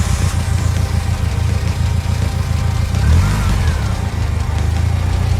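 The engine of Snoopy, a rebuilt project car, idles steadily close by, a deep, even rumble with a slight rise partway through and no talking.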